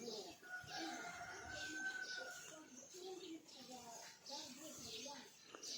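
Wild hybrid fighting-cock chickens calling and clucking at a distance outdoors, faint and scattered, with occasional birdsong and people talking quietly nearby.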